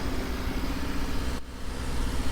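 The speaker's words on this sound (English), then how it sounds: "I don't know if you guys can hear it, but the car is going to start" A Subaru engine, started remotely, turns over and settles into a steady, moderately loud idle hum that runs throughout, with a brief dip in the noise partway through.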